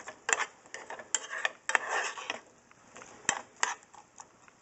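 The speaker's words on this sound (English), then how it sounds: "let me give it a good stir" Buttered food is stirred in a cooking pot for a Thanksgiving dinner for two, giving irregular close scrapes and clinks of utensil against metal, several sharp knocks spaced through the stir, with no talk.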